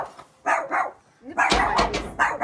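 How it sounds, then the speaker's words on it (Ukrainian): Dogs of one breed barking inside an antique shop, a few loud, close barks in irregular bursts with short pauses between them. "Це такі гавкливі просто так"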